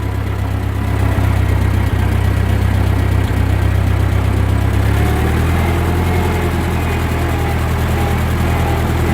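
A 1941 Ford 9N industrial tractor engine chugs along in first gear, a loud, steady low rumble with a knocking undertone and a slight shift in pitch midway.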